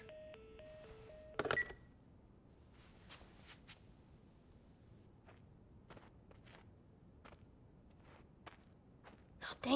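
Phone keypad tones in The Last of Us as a number is dialed, a quick series of beeps followed by footsteps and soft rustling in a quiet room.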